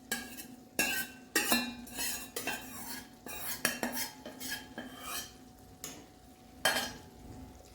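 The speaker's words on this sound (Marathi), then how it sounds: "तर आता त्याच्यामध्ये मी पालक टाकून घेते" Spinach going into a pan of Dhaba-style lasooni palak gravy and being stirred, with repeated clinks and scrapes of a spoon against the pan over a soft, steady cooking sizzle, with no talking.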